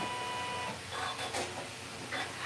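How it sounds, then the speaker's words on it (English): A single-needle felt embroidery machine that doubles as a sewing machine runs steadily with a mechanical whir and faint ticking, a constant hum at moderate level with no voices. "Yeah, it's a one needle. Yeah. Because it's also a sewing machine."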